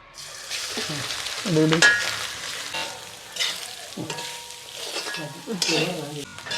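Ingredients for chicken curry sizzle and fry in a pan, with stirring scrapes and crackling pulses throughout and a brief voice in the background.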